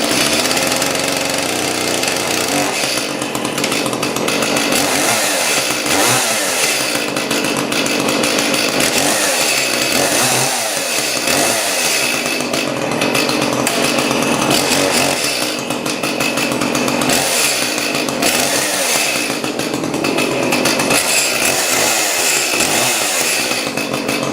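A Husqvarna 55 chainsaw runs continuously after starting, a loud buzzing two-stroke engine with a rough, pulsing idle that fills the whole stretch, close up and steady.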